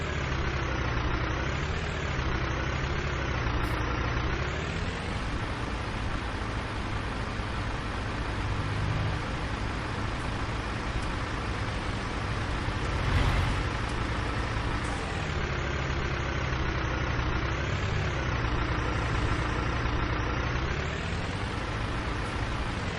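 A tractor engine pulling rollers in Farming Simulator 19 drones steadily for the whole stretch, a loud continuous rumble with slight swells in pitch and no talk over it.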